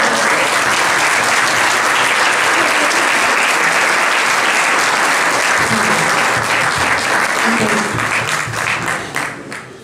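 An audience at an award ceremony applauds loudly and steadily, with dense clapping that holds for several seconds before tapering off, and a few voices mixed in underneath.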